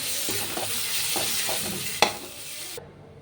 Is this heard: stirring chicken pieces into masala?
yes